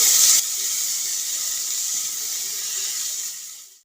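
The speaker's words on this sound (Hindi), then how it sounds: "अब मैं टमाटर को सॉफ्ट होने तक इसे फ्राई कर लेती हूँ।" Tomatoes fry in a pan, giving a steady sizzling hiss that is loudest at first and then fades slightly, with no talking.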